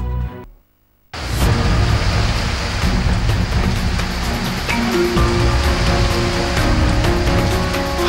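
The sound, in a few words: heavy rain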